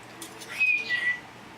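A pet talking bird whistles two short, bright, high notes, one after another, close by. Faint rustling and small noises sit around them in an otherwise quiet room.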